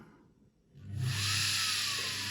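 Washing machine motor driven through a speed controller set to reverse, spinning up from quiet to a steady loud whine with a low hum, holding near-constant speed to the end.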